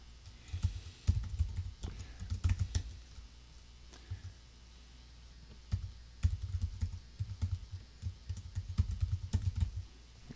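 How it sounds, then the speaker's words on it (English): Typing an email address on a computer keyboard, close-up key clicks in irregular bursts separated by short pauses. "I'm going to type in my email."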